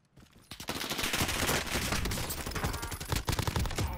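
Heavy gunfire in Call of Duty Warzone on Rebirth Island erupts after a brief quiet start, a sustained loud fusillade of overlapping shots that keeps going through the whole stretch.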